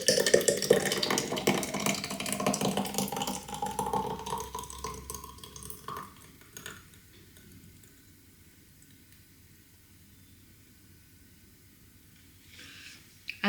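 Homemade Korean sauce is poured from a container into a jar, a wet trickling pour that runs steadily for several seconds and then trails off into near quiet.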